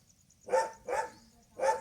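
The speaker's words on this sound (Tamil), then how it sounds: "எங்கள் வீட்டில் இருக்கிற ஒரு நாயோட பேர் தான் ராஸ்குட்டி" Three distinct barks from a house dog, moderately close, coming in a quick pair followed by a third after a short pause, with no talk over them.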